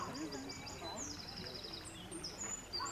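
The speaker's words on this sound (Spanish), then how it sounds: "El ruido de los pájaros es mucho más fuerte." Several birds chirp and whistle in short, bright calls, repeating over a steady outdoor background.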